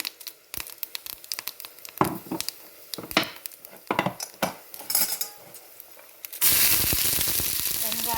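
Mustard seeds, fennel and fenugreek crackle and pop in hot oil, irregular sharp spatters that build into a steady loud sizzle near the end.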